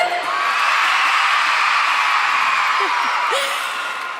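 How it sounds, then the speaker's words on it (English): A large audience at a YMCA National Championships event in Green Bay screams and cheers continuously, a loud, sustained wall of high-pitched crowd noise with a few whoops rising above it. "You guys are screaming so loud."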